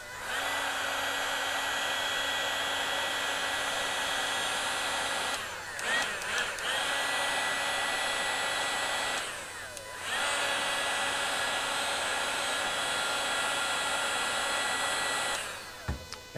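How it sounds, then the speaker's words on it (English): A Milwaukee heat gun runs with a steady, loud blowing whir while smoothing sagging material on a W126 front seat. It cuts out twice briefly, around six and ten seconds, and then resumes at the same level. "I'm going to use the Milwaukee heat gun and I just want to see if I can smooth some of this out"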